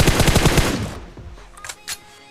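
Gunfire in a shooter video game: a rapid loud automatic burst of about eight shots, then a decaying tail and two fainter, sharper single reports.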